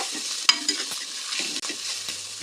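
Coriander leaves sautéing in a pan, with a continuous close, bright sizzle and a couple of quick stirring knocks from a spoon early on.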